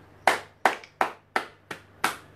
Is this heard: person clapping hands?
yes